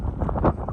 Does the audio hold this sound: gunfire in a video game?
no